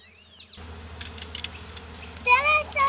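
Honey bees buzz during a bee removal, a thin insect drone with short bursts and a louder close pass near the end, heard alone without speech.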